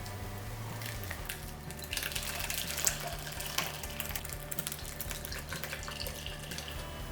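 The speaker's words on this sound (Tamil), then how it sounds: "இந்த ஸ்டேஜில் இந்த மாதிரி எல்லாமே நல்லா பிரிஞ்சதுக்கப்புறமா நம்ம வடிகட்டிடலாம்" Curdled milk being poured through a strainer to separate paneer from whey in a kitchen, a steady splashing, trickling stream of liquid with occasional louder spills, close and continuous, no talking.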